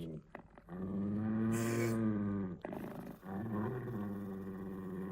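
A dog in a children's bedtime story growls in a long, deep, sustained rumble that swells and breaks off, with a couple of shorter growls following, likely a voice imitating it.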